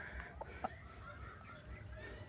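Chickens on a small farm cluck softly nearby after being given feed, a few brief calls over a steady hum and faint background sounds.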